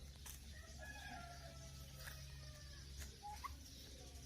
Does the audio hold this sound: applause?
no